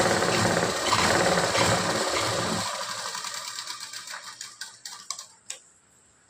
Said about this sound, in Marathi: डबल शिलाई करून घ्यायची